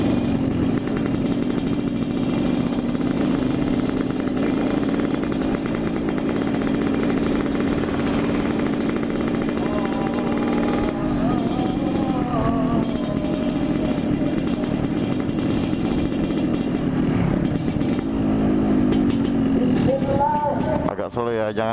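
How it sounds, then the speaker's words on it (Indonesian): A Yamaha RX-King and a Kawasaki KLX with loud aftermarket exhausts ride together, a continuous close, raspy engine drone with rising revs and throttle blips near the end, while a rider talks over it. "Karena suara knalpot kita tuh bacot parah ya kan."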